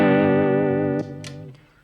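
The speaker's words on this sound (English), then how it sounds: "now I have a classic vibrato effect" An electric guitar note rings through a univibe pedal set to vibrato, its wavering sustained tone close and loud for about a second before choking off into short fading plucks.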